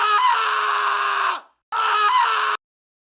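Two loud, harsh scream samples for a darksynth track, the first held over a second before trailing off, the second shorter and abruptly cut, with no other sound around them.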